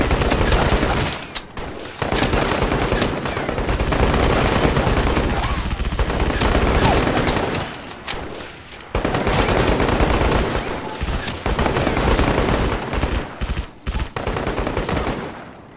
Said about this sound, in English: Contact. Machine gun.